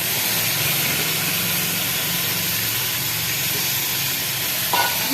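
Mustard greens go into a pot of cooking mutton for a village-style sarson gosht, giving a steady, close sizzling hiss with faint stirring and a brief clatter near the end.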